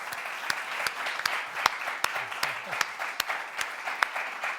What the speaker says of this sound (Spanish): pido un aplauso para estos 4 padres fundadores